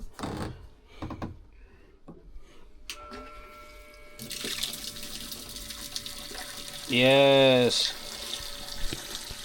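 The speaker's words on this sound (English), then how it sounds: "This is a fuel transfer pump that I had on for storage for later use. It's going to be transferring water now" A fuel transfer pump pumps water out of a boat's tank toward the bilge, its motor starting with a broad whirring rush amid scattered handling noises, then a loud rising tone; someone briefly exclaims.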